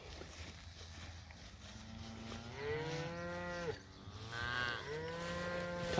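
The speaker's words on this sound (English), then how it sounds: "Talk about a pretty little cow." A cow in a beef cattle herd moos in two long, drawn-out calls with a falling pitch, close and clear over a quiet outdoor background.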